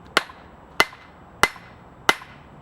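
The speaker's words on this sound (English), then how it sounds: "once it's on the anvil, I can hold on to it and just smack it" A hammer strikes forged steel bolt tongs held on an anvil four times, each a sharp, ringing metallic smack spaced evenly about two-thirds of a second apart, close and loud with nothing else heard.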